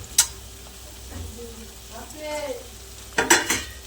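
Small pieces of chopped tomato go into a sizzling pan of soya chilli and are stirred, with a steady frying hiss, soft scraping, and sharp utensil clinks against the pan near the start and end.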